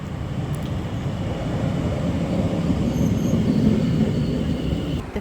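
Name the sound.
train coming into Frinton-on-Sea station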